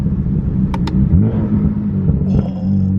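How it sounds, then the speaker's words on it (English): A tuned BMW F80 M3 downshifting on the road, with a deep rumbling exhaust note that dips and rises through the shift, plus short sharp chirps, heard close from inside the car. "that downshift sounded so sick"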